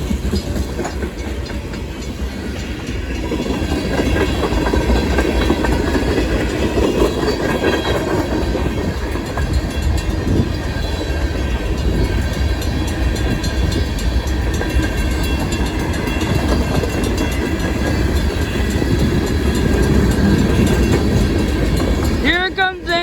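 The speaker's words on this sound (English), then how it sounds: "Here it comes in the train, guys." CSX freight train passing in a snowstorm in Holland, Michigan, a loud continuous rumble of rolling cars with clickety-clack and squealing wheels that builds and holds close by for the whole stretch.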